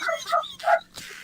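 A dog gives a quick run of short, yappy barks and yips, close by and fairly loud, with a brief pause before a last softer yelp.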